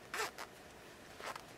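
A clothing zipper on a sewing project pulled in two short, quiet strokes, one after the other, with no talk over it.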